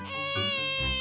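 A baby cries in short wailing bursts during a children's storybook reading, loud and close, with no other voices over it.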